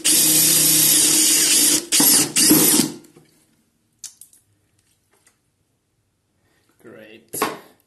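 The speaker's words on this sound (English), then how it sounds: "one of my comically oversized drills, can't even see this here, it's going to be a humongous" A 12 mm drill bores through a plastic container with a loud, harsh whine for about three seconds, broken by brief gaps and bursts, then near silence with a few faint clicks and a short final burst.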